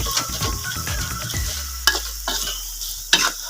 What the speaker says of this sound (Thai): อยกวนไปเรื่อยๆครับ จนกว่ากระเทียมมันจะเริ่มเหลืองนะครับ